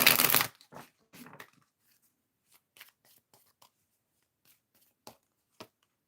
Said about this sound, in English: Shuffle the cards really good.